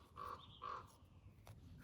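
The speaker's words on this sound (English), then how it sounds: "We have a crow flying over." A crow caws twice in quick succession while flying overhead, the harsh calls fairly clear against a quiet outdoor background.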